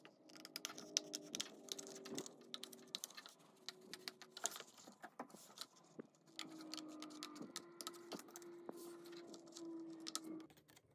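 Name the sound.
paper scissors cutting out a paper pattern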